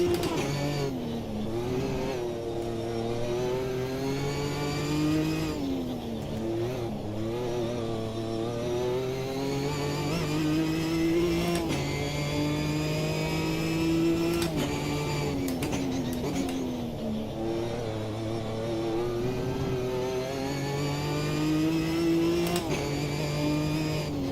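The engine of a Ginetta GT4 race car drones continuously in an online endurance racing game, rising and falling in pitch through gear changes and acceleration, loud and close throughout.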